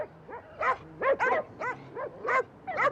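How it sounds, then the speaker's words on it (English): Several dogs barking in a story set in London: a rapid run of short yips and bow-wows from more than one animal, close and fairly loud, with no speech. "I've never heard so many dogs."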